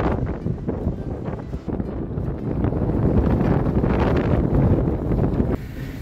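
Strong wind blows on the Danish west coast, buffeting the microphone with a loud, gusty roar that builds through the middle and eases slightly near the end.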